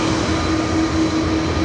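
A jet airliner powers up for takeoff on a runway at Dublin Airport, a loud, steady roar with a faint whining tone that holds evenly throughout.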